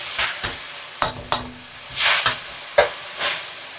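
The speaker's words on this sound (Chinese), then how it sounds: "快速翻炒30秒。" Bean sprouts with a splash of soy sauce tossed fast in a hot wok, giving a soft steady sizzle broken by sharp scraping clacks of the spatula against the metal roughly every half second.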